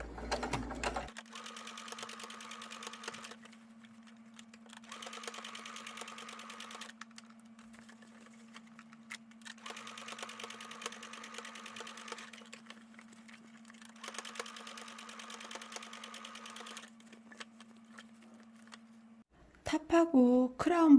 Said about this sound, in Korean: 위쪽에 놓고 박음질 하겠습니다